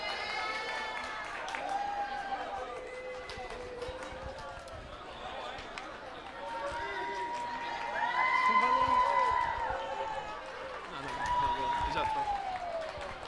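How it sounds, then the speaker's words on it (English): Spectators cheer and shout for Team Italy at a Lisbon lacrosse cup final, a steady crowd roar that swells louder twice, with a commentator talking over it. "The crowd for Italy."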